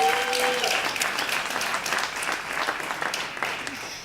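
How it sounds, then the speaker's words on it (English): Finalists and guests at the 2018 Anzisha Prize Awards Gala give a sustained round of loud applause, thick and steady, easing off slightly toward the end. "Give yourselves another round of applause"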